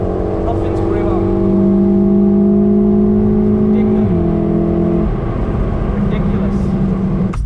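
A Volkswagen Golf R accelerates on a soaking wet road, its engine note droning steadily and climbing in pitch before shifting down after a gear change, loud and close throughout, with tyre and road noise beneath.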